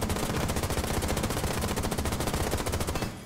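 A rapid burst of automatic gunfire from a rifle in a tactical shooter video game: dense, evenly spaced loud shots in one sustained string that stops abruptly near the end, with no talk.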